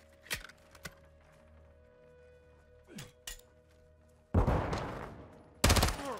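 Gunfire in Modern Warfare 2, realistic mode: a few scattered sharp shots early on, then two loud, close sustained bursts of rapid fire toward the end.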